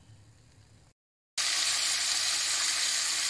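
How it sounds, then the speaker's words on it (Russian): Bell pepper and onion hit a hot frying pan, bursting into a loud, dense, close sizzle right after a brief silent gap, following a quieter stretch of frying. "Обжариваем перец."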